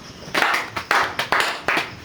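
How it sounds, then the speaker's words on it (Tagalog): A class of students claps for a group of classmates in a few quick, close bursts of rhythmic clapping with short pauses between them and no talking. "Pakibigyan ng palakpak."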